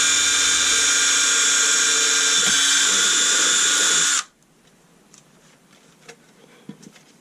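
A power drill bores through a power supply housing, running loud and steady for about four seconds before cutting off abruptly, leaving quiet handling noises afterwards.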